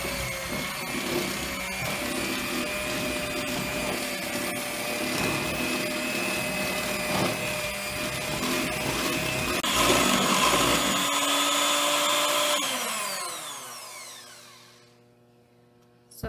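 An electric mixer creams butter for whipped shortbread with a loud, steady motor whine. The pitch shifts partway through, then the motor winds down and stops near the end, with no talk.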